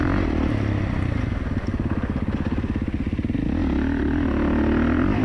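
A stock 2024 Kawasaki KX450 dirt bike engine runs steadily up close, its rapid throbbing exhaust pulsing with a rough, buzzy tone and no talking.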